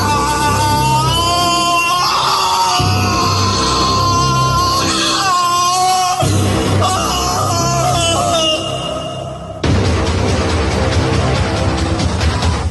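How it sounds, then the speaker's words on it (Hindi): A man screaming in pain and fear after his wrist is cut, in a dramatized horror story: long, loud, wavering wails and groans over a music background, breaking off before a harsher final stretch. "शिव दर्द और डर से इतनी जोर से चीखा कि किसी के भी कान सुन्न पड़ जाए"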